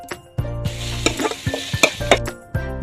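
Garlic, ginger and green chili sizzle in a frying pan while being stirred, a close, loud hiss with repeated scraping and clinking of the spoon against the pan.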